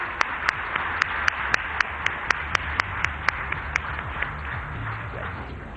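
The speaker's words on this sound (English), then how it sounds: "A big round of applause, please" Applause for Mr. Deepak Parekh at the India Business Leader Awards ceremony, a steady crowd wash with sharp individual claps standing out at a fairly even rhythm.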